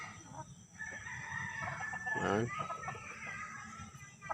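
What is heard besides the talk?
rooster crowing and chickens clucking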